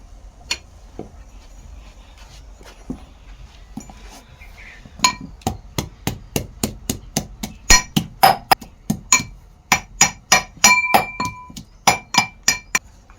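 Ginger is pounded in a mortar for tea with sharp, clinking strikes. A few scattered knocks come first, then a rapid, regular run of close, loud blows, about twenty in all, with no talking.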